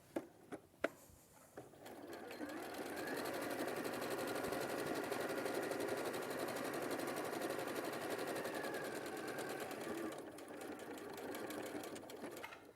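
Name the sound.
sewing machine stitching a quarter inch seam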